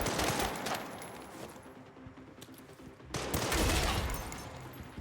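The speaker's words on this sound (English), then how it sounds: "Hopefully that stack hand grenade should have got them all." Stacked hand grenades go off in a room in Resident Evil Requiem. A crackling, rattling blast is followed by a fading tail, then a second loud burst of explosions.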